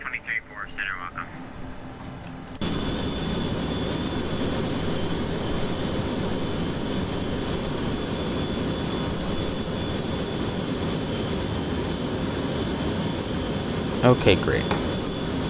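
Steady, loud cockpit drone of an Embraer E145 regional jet cruising in X-Plane 11, a constant whooshing engine and airflow hum under occasional talk and radio chatter.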